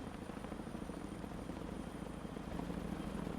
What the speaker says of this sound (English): These dudes had helicopters.